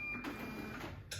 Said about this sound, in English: The printer printed the label I selected.